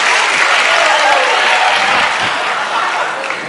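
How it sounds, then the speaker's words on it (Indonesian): Audience applause at a school Isra' Mikraj event held at a senior high school in Kerinci, a steady dense clapping that fills the room loudly and evenly throughout with no pauses. "Oke, tepuk tangan."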